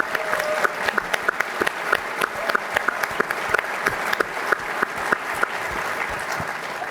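A keynote conference audience applauds for nearly seven seconds, a broad steady wash of clapping dotted with sharp, distinct individual claps that stand out near the microphone.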